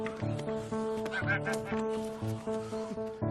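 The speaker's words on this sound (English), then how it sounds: "the boys have been nurturing their flock of geese" A flock of geese on a Tudor-era monastery farm honks in a dense, overlapping chorus nearby, continuous and fairly loud with no pauses.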